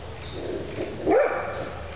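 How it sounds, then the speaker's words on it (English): A dog barks once at middle distance outdoors in a beekeeping yard, a short muffled bark rising over a steady background hum. "Dog finally shut up? No."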